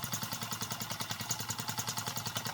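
A small model steam engine kit runs nearby with a quick, even chuffing and clattering beat that stays steady and moderately loud throughout, with no voices.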